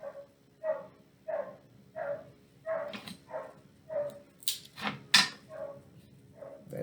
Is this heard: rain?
no